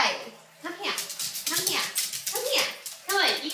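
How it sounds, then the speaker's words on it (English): A small fluffy dog yips, whines and whimpers excitedly in quick, high bursts, close by and fairly loud, with overlapping human voices mixed in. "This is my fluffball dog"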